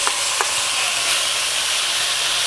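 Beef marinated in red curry sauce sizzles steadily as it lands in a hot pan for fajitas, a continuous bright hiss with a couple of small pops near the start and no voices.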